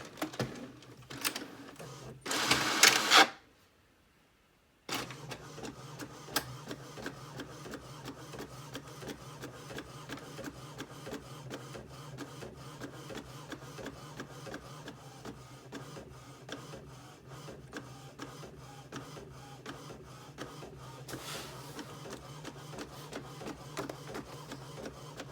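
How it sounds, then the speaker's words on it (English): Inkjet printer in a home craft setup printing a sheet of stickers for a Cricut cutter, with steady mechanical whirring and rhythmic carriage passes over about twenty seconds, after a brief louder feed burst and a short pause. "we're just going to insert our paper like we would a normal printer, and it will start to print."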